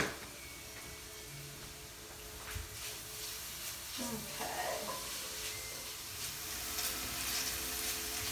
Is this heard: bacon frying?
yes